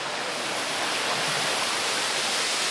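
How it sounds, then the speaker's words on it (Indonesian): Watu Payung waterfall at Segoro Gunung pours in a dense, continuous roar of falling water, close and loud and unchanging, with no voices over it. "ini kondisi air terjunnya, penonton. Air terjun Watu Payung"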